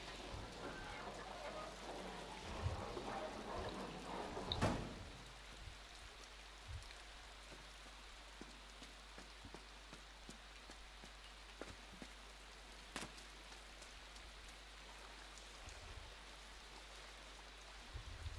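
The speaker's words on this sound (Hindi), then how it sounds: "बारिश भी बड़ी धूमधाम हो रही है यहाँ पे" Steady rainfall in the Inside video game, a soft continuous hiss of drops on surfaces with scattered sharper ticks and a couple of louder knocks, faint and even throughout.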